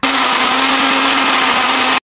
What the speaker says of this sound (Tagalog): Tas i-blend lang nato na sila sa among blender nga halos nalumutan na.